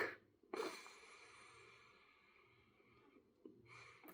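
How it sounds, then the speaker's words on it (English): A long, quiet breathy inhale through the nose, bracketed by a couple of brief louder rustles, close to the microphone. "Enjoy that sniff."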